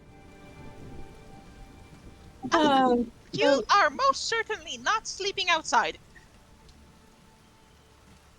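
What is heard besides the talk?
heavy rain outside with a storm brewing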